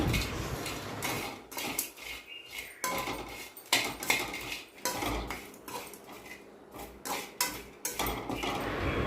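Repeated scraping and clattering of a utensil against a metal pan, irregular stirring strokes close by as dried anchovies fry, with faint sizzling underneath and no voices.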